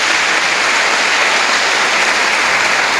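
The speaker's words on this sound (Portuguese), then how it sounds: "Vamos ter uma salva de palmas para Jesus." Church congregation applauding during a service, a dense, steady wash of many hands clapping at once, loud and continuous with no speech.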